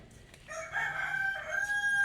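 A rooster crows in a backyard home garden, a single call rising and holding for about a second and a half at moderate distance, with no talk over it.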